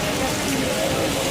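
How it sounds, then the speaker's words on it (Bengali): Heavy rain pours down in a dense, steady wash of noise for a brief moment, with a voice faintly present underneath. "অনেক জোরে বৃষ্টি পড়ছে"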